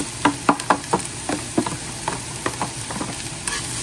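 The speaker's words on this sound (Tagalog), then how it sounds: "Magpa-brown tayo ng shrimp." Shrimp browning in a hot frying pan for palabok, with a steady sizzle and a series of sharp scrapes and knocks as a utensil stirs them, close and fairly loud.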